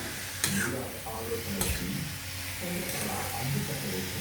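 A tempering of onion, green chili, chana dal and salt fries in a cabbage curry pan, sizzling steadily while it is stirred, with faint scraping strokes and a few sharp clinks close by.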